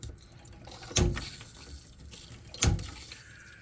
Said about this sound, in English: But I want to open up my pressure relief valve just a couple of times and get some